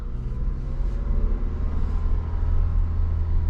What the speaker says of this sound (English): I'm just cruising around the crawl gear right now.